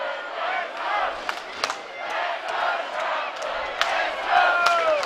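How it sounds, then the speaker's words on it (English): Football crowd at a Stratford Eltham match, supporters chanting and shouting together around the ground, a broad sustained roar with a few sharper cheers and whoops rising over it. "And the chant goes up around the ground."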